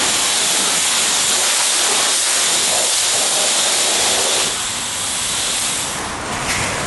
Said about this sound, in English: This is Tristan washing the brush before he uses it